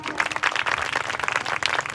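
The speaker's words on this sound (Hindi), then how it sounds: "एक बार जोरदार तालियां।" Brief burst of audience applause at a youth celebration event after a song performance, many hands clapping in a loud, busy patter for about two seconds with no voices.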